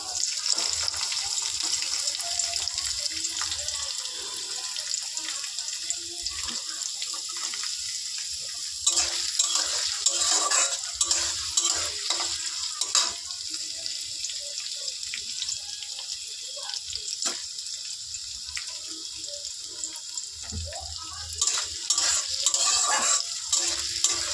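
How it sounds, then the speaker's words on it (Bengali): Chopped onion fries with lightly browned garlic in a pan for pasta, a steady close sizzle with frequent scraping stirs and clinks running throughout, and no voices. "এবার আমি এর মধ্যে দিয়ে দেবো পেঁয়াজ কুচি"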